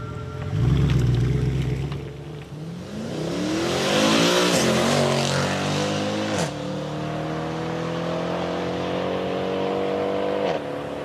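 A powerful AMG V8 engine in a Mercedes C63 revs up repeatedly, its deep roar rising and falling in pitch, loud and close with no talking.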